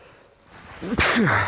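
A single close, sharp sneeze with a short breathy intake before it, heard during a carp fishing rig demonstration.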